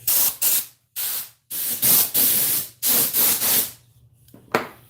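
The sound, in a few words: electric sander sanding a wooden dough bowl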